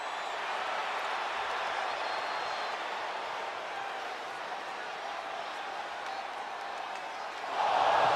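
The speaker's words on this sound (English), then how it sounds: "And this crowd is buzzing over that." A WWE 2K25 arena crowd murmurs and buzzes as a steady wash of noise, swelling louder with cheering near the end.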